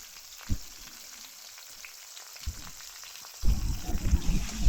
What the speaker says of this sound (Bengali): গরম হয়ে গেলে ওর মধ্যে দিয়ে দেবো কেটে রাখা আমগুলো।